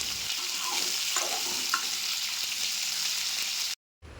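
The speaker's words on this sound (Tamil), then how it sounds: "இதை கொஞ்ச நேரம் வதக்கி விட்டுக்கலாம்." Tomatoes sauté in a hot pan with a constant bright sizzle, a few stirring scrapes cutting through, before a sudden brief drop to silence.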